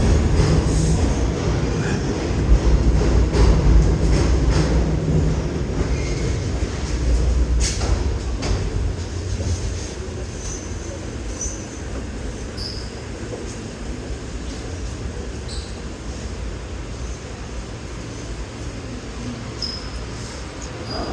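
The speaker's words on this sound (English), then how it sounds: "we're going to be heading to Brooklyn via the L train" A New York subway L train on the old IND line toward Brooklyn rumbles steadily and loudly, a dense low roar of wheels and carriage noise with faint high squeals and rattles, louder at first and then settling into a constant hum.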